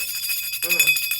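Small bells jingling to cleanse a room with sound, a cluster of bright, high rings and shimmering overtones that build and sway in a brief burst, close and clear.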